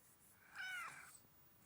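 A cat meows once while sitting on a person's lap indoors, a soft, close, drawn-out call lasting about half a second over a quiet background.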